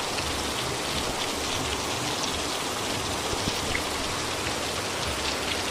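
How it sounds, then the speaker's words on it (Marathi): Steady, heavy rain pours down in a continuous dense hiss, close and loud throughout, with no voices and no breaks. "आणि आता असं थोड्या थोड्या वेळाने पाऊस येत आहे."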